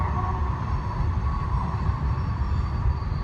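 A steady low rumble of a passing train fills the whole stretch, broad and continuous with no voices over it.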